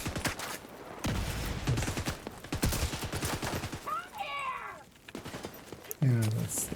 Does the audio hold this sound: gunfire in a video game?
yes